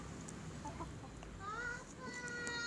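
A flock of about fifty laying hens clucks in a poultry-farming setting, with scattered clucks and a rising squawk-like call over a low background murmur.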